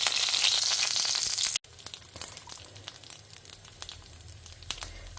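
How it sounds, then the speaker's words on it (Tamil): Mustard seeds splutter and crackle in hot oil in a home kitchen, with a steady close sizzle full of sharp scattered pops, briefly cut off before the crackling resumes. "கடுகு பொரிய ஆரம்பிச்சுட்டு"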